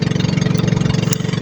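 Engine running on a test, a close, steady, loud mid-pitched chugging with a fast, even pulse and no pauses.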